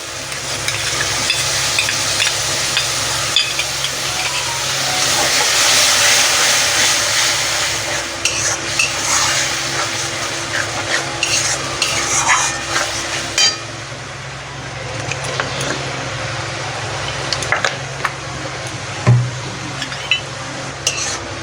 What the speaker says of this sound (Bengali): মশলাটা আমি দু তিন মিনিট কষিয়ে নেব